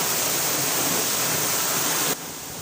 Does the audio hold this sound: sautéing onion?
no